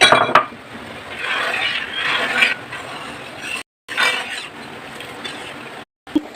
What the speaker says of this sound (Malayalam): നന്നായിട്ടൊന്ന് ഇളക്കി അത് മിക്സ് ചെയ്ത് കൊടുക്കുക